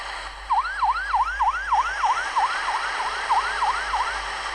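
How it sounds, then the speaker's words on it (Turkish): A vehicle siren in Minecraft wails in quick, repeating rising-and-falling whoops, steady and fairly loud, with no voices over it. "Sirenleri yakıyor."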